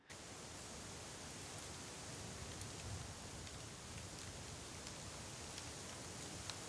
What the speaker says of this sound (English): This is also the sound of trees.